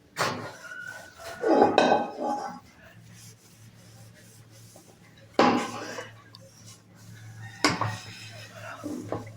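Metal pots, plates and a kadai are washed in a kitchen sink, giving three separate bursts of clattering and scrubbing with quieter gaps and a low background hum between them.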